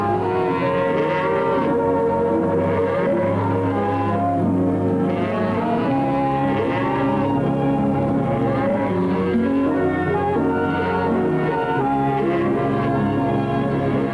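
Several cattle low and moo repeatedly, overlapping one another at moderate distance, a continuous chorus of a herd with no talking.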